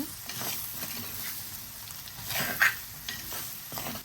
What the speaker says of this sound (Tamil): ஒரு மூன்று நிமிஷம் அப்படியே பொரிய விடுங்க